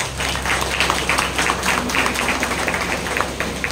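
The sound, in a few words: audience clapping to congratulate the sisters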